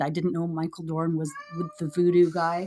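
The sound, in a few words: cat meowing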